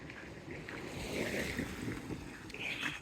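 Cold, relentless wind blows steadily outdoors on a rainy stretch of the Camino between Hontanas and Boadilla, a broad rushing roar with gusts, no voices.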